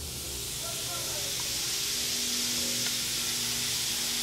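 Fermenting moonshine mash fizzes and crackles in a steady, close hiss of tiny bursting bubbles that holds level throughout.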